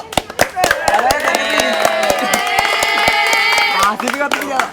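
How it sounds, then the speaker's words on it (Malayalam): A group claps steadily, the sharp claps running throughout while children's voices sing or call over them loudly. "ക്ലാപ്പ് ഇവിടെ ഫുള്ള് വരുന്നുണ്ട്"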